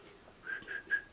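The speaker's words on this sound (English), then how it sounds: "that's the whistle that I'm talking about" Three short, soft whistled notes from a person, rising and falling gently, fairly quiet against light background hiss.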